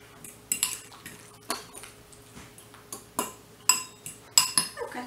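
Metal utensil scrapes and clinks against a bowl of homemade strawberry vinaigrette dressing in irregular bursts, close and fairly loud, with no talking.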